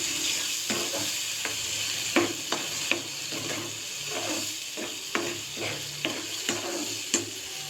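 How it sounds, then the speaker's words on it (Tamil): Sliced onions sautéing in oil in a pan for a South Indian onion thokku, a steady soft sizzle broken by repeated scraping taps of a spoon stirring against the pan. "இப்போ நல்லா வதக்கி விட்டுக்கலாம்"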